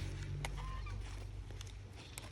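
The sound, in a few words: duck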